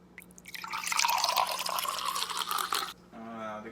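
Keurig coffee maker running, a steady watery dripping and trickling rush that builds, holds for a couple of seconds, then cuts off, followed briefly by a voice.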